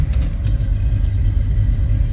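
A 1979 Chevrolet Malibu Coupe runs steadily just after a cold start, its engine giving a loud, continuous low rumble close to the listener with no talk over it.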